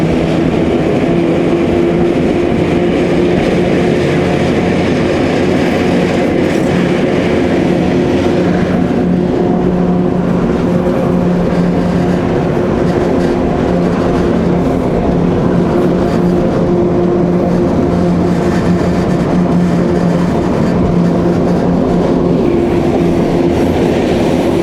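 Industrial railway wagons roll past at the Magnezit plant in Satka, a loud, continuous rumbling with rhythmic wheel clatter and a steady tonal hum, close by and unbroken for the whole stretch.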